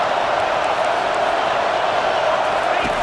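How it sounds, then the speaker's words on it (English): A home crowd roars in a college football video game, a dense, steady wash of cheering at an SEC matchup between Mississippi State and Auburn, with play-by-play commentary over it. "this home crowd is fired up and ready to make a difference"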